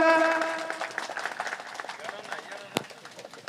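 At a veterans' association function, a sustained voice fades into a round of honouring applause from the gathering, a scattered, moderately loud clapping with one sharp clap near the end.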